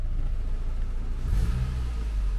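A Nissan Sentra engine idles with a low rumble before one quick rev swells up, close and loud, with no talking.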